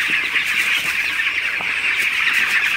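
Broiler chickens on a farm, about fifteen days old, cluck and chirp steadily as a dense flock, a continuous near chorus with no talk.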